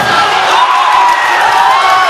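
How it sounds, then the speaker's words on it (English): MMA fight crowd cheering in the last seconds of the bout, a loud, dense, continuous roar of voices and whoops filling the arena. "The crowd going crazy, willing him on for the last seconds of this fight."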